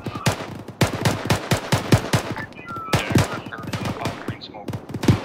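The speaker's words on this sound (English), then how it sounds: "We need to give that resupply a lot of suppressive fire as they're landing." Rapid suppressive gunfire during a military field exercise, a dense, rhythmic stream of loud, close shots with short gaps between bursts, continuing for the full length.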